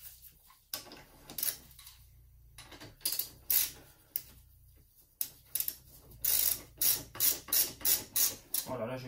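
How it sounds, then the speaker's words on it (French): A ratchet wrench gently pre-tightens the screws on a brake disc beside a four-piston caliper, giving close, crisp bursts of clicking that speed into a quick, even run of ratchet strokes near the end. "Voilà, là je visse tout doucement"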